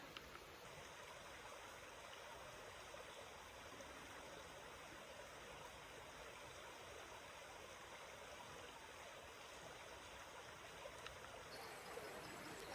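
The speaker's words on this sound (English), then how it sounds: "Just hear the water running." Quiet, steady rush of shallow river water at Brock Bottom picnic site, a continuous low murmur running alone and unbroken throughout with no voices.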